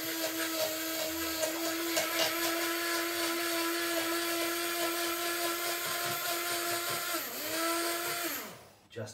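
A blender whizzes roasted sauce in one continuous, loud, steady whine that holds its pitch, then winds down and clatters to a stop near the end.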